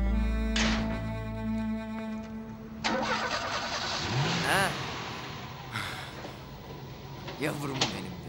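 A car engine cranks and catches, then revs and pulls away, rising and falling as it accelerates, with a sliding-door-like rattle and voices talking over it.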